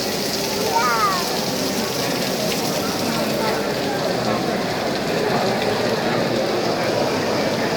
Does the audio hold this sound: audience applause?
no